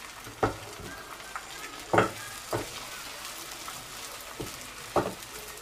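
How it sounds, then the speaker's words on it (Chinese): Egg batter mixed with a little starch slurry fries in a lightly oiled pan for an egg pancake, giving a soft steady sizzle punctuated by several sharp utensil taps and scrapes. "给锅刷一层食用油，加入蛋液，我们摊个鸡蛋饼"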